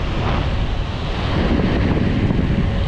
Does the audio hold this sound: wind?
yes